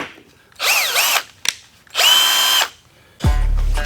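A KIMO T-20 cordless drill driver with a brushed motor and metal internals whirs in three short bursts with pauses between them, close and loud, the motor pitch rising and falling, and a final low-toned burst at the end.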